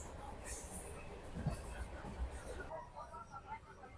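A passenger train out of Howrah bound for Bardhaman runs at about 85 km/h, giving a steady broadband rumble with faint rail clatter, and muffled voices mix in.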